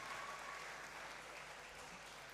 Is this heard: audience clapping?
yes